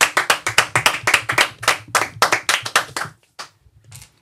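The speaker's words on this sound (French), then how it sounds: "Ce tout petit applaudissement du bout des doigts" Small fingertip applause on a French quiz show, a quick run of light, crisp claps from a few people for about three seconds, then fading to scattered soft taps.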